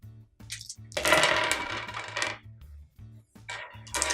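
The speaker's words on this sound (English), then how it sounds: "Now we get to roll the dice." Dice for the Doctor Who: Time of the Daleks board game rattle and clatter in several quick bursts, shaken and tumbling onto a hard surface, loud and close with short pauses between rolls.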